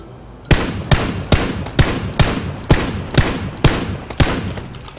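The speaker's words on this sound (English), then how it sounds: "Shots northeast." Rapid rifle gunfire in PlayerUnknown's Battlegrounds, about ten sharp, evenly spaced shots ringing out loud and close with no talk over them.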